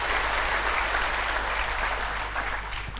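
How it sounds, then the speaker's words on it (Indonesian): Congregation clapping in a church service, steady dense applause from a crowd over a low hum, continuous and moderately loud. "Yang percaya berikan tepuk tangan dulu buat Allah kita."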